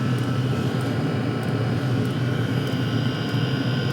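A cheap eBay diesel night heater burns steadily, giving a continuous close roar of fan and combustion with a faint steady whine over it. The level stays even throughout and no one speaks.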